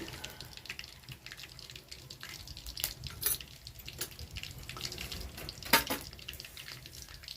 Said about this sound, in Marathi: यामध्ये जिरे टाकते एक चमचा जिरे एक चमचा मोहरी चांगलं तळून घेते